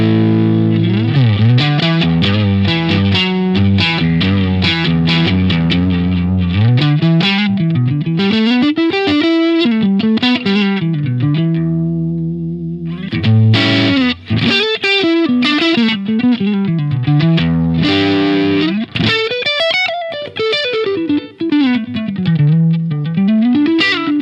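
Electric guitar played through a Helix Marshall JCM800 (Brick 2204) amp model at default settings, loud and continuous with crunchy overdriven chords and riffing, a brief lull partway before the distorted playing resumes.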